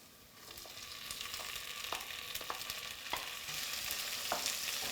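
Defrosted frozen peas stirred in a hot pan, a broad steady sizzle rising slightly over time with light scraping clicks from the spoon at a regular pace.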